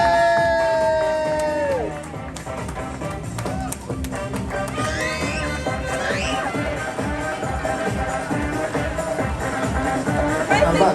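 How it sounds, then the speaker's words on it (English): Grandstand crowd at an F1 stockcar world final meeting cheers and whoops with scattered clapping, a broad rolling roar that builds steadily, while a tonal sound fades early on and voices carry over the noise. "Keep the applause coming in the south stand then, ladies and gentlemen."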